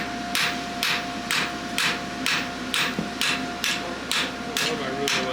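A farrier's hammer strikes steadily and evenly, about twice a second, as a horseshoe is forged, with loud ringing blows over a constant background hum.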